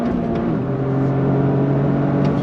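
A 2023 Toyota GR Corolla on a race track holds a steady engine drone from inside the cabin, a continuous mid-pitched hum with a faint whir and no voices.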